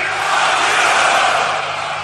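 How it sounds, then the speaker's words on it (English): A concert crowd at a show bellows together in one loud, sustained mass of voices, a dense roar filling the whole moment. "I want to hear everybody in the crowd go, "Fuck you!"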